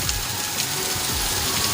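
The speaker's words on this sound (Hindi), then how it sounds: "रिमझिम पानी गिरा थे" Light rain falling on the first rainy day in an Indian village, a steady wash of soft patter and drizzle noise, close and continuous with no voices.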